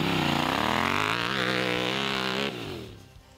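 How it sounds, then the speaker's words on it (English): A Yamaha Tenere 700 motorcycle fitted with a Yoshimura full exhaust system revs up close and loud, its pitch climbing steadily for over two seconds before the throttle snaps shut and the engine note falls away. "Looks amazing, saves a ton of weight, and it sounds like a race truck."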